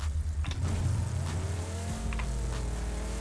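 A car engine drives in the PUBG video game, a low steady motor drone with gear shifts and rising revs, plus a few short squeals and knocks from the vehicle.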